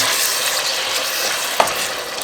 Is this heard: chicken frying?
yes